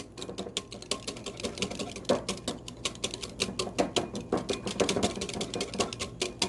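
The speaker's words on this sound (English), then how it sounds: "you're going to take your whisk" A whisk beats a steak marinade for boneless ribeye in a bowl, making rapid, steady clicking and tapping strokes close up for several seconds, with no talking.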